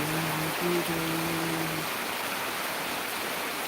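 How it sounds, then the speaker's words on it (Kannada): Rain pours down steadily during a coastal Karnataka shower, a constant broad hiss that stays even and fairly close throughout, with a faint tonal hum briefly over it at the start. "ಈಗ ಮಳೆ ಇದೆ"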